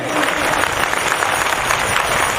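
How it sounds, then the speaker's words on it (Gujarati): Dense, steady applause from an audience at a 2009 Gaupushti Maha Yagna religious assembly, filling the whole stretch with a continuous crackle of many hands clapping at close range. "તાળીઓથી વધાઈ લો."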